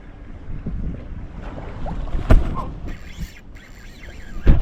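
Wind gusting over a boat on the open ocean while fishing, rumbling against the microphone with water splashing beneath, steady and close.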